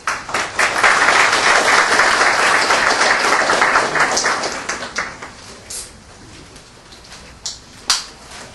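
A World Affairs Council audience in DC applauds to welcome speaker Joshua Kurlantzick. The steady, full applause fills the room for several seconds, then thins out into a few scattered claps.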